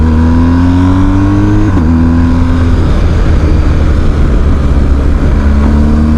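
A BMW R 1250 GS motorcycle engine revs up loud and close, its rising drone dipping at a gear change before climbing again.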